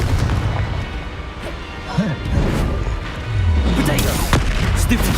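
Confringo explosive spell cast in the Hogwarts Legacy video game, a dense crackling blast with sharp impacts and rumbling booms layered over continuous game noise, with a low whoosh partway through.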